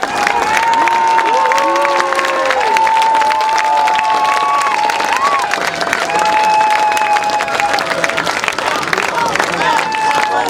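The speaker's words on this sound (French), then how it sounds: "Applaudissez plus fort" Crowd at a political rally in France applauding and cheering loudly, a dense, continuous roar of clapping with shouting and whistles, and voices calling out over it.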